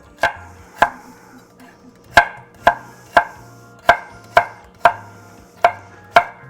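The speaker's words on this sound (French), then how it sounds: "Notre brunoise, ça consiste simplement à couper des petits cubes." A knife chops celery into tiny brunoise cubes on a board, about eleven sharp, close strikes in an uneven rhythm, each ending in a short ring.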